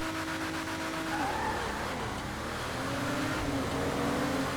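A car in GTA 5 Online with stock exhaust and no turbo revs and drives, its engine tone rising and falling steadily, with tyre squeal mixed in, loud and close, no talk.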